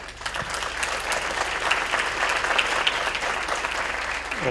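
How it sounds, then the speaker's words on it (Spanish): An audience at a film conference session gives a sustained round of applause, many hands clapping evenly at moderate volume in a hall, welcoming the next speakers. "Recibámoslos con un aplauso, por favor."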